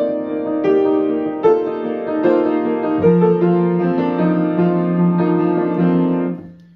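Piano-like accompaniment for a choral piece, a sequence of sustained chords struck about once a second, clear and close, fading out at the end with no voices.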